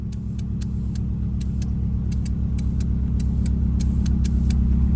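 A Subaru Forester with a swapped-in forged STI engine drives for the first time, its steady low rumble holding close and loud throughout, while sharp, evenly spaced clicks or ticks repeat over the engine drone.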